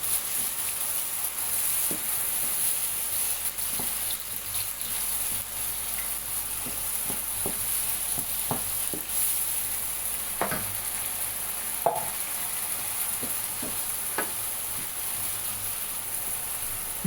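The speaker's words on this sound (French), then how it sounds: "J'ajoute la tomate et tout ce que j'ai mixé. Bien mélanger." Tomato and a blended paste sizzle steadily in a frying pan, with a spoon scraping and stirring in repeated close strokes over the continuous hiss, for sautéed salt cod with peppers.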